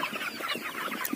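Poultry chickens clucking inside a shed in cold winter weather, a cluster of soft, overlapping clucks and murmurs close by in a quick, irregular rhythm.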